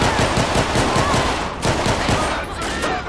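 Rapid automatic gunfire in GTA 5 during a modded sheriff patrol shootout, loud bursts of repeated shots rattling for about three seconds with a brief pause midway.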